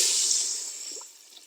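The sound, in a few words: pouring 1.5 liters of water into chicken soup pot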